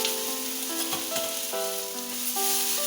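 Tomato going into a frying soup base of onions, pepper, black pepper, spices and seasoning oil, giving a steady broadband sizzle under a background music tone, with no voices.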